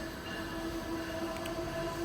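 Amtrak train with an ACS-64 locomotive departing Philadelphia's 30th Street station, a steady rumble of rolling railcars heard from inside the coach with a faint tonal whine above it and no talking.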